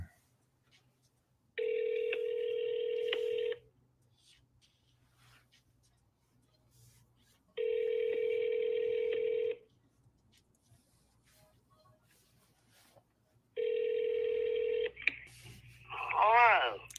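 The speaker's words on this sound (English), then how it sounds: "Let's see if she'll answer the phone." An outgoing phone call rings three times, each long two-second ringback tone separated by about four seconds of near silence, before a voice answers at the end.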